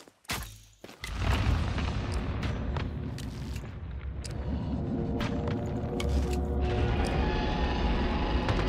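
A laser attack in the survival shooter Once Human: a sharp blast followed by a sustained, loud, roaring beam-like rumble that carries on for several seconds with no talking.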